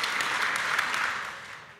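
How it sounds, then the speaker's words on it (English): A Mother's Day church audience breaks into warm applause for a long marriage, a dense burst of clapping that holds steady and then fades out toward the end. "I love that I always get applause for that."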